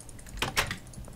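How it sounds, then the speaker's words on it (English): Mouse clicks from a player in a Minecraft library dropper map, a few quick close taps bunched in the middle of a short stretch, faint room noise around them. "I'm clicking."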